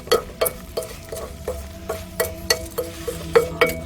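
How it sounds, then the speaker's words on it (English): A thick, lumpy mixture for a gold fire assay being stirred in a pan, about a dozen distinct scraping and clacking strokes in an uneven rhythm, close and clear with a faint sizzle beneath. "give it a stir"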